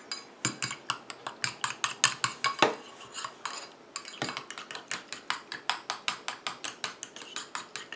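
A utensil stirs a cosmetic rose and orchid face mist preparation in a small container, producing rapid, regular clinking taps, close and crisp, one short pause midway, with no voices.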